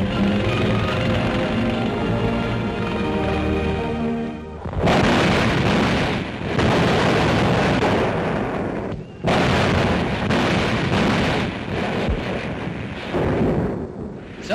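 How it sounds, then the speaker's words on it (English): Self-propelled Priest guns fire artillery, heavy booming blasts and rumbling roars filling the stretch, with brief gaps near five and nine seconds; loud and continuous, with no talk. "Self-propelled priest guns brought artillery within range of the retreating foe."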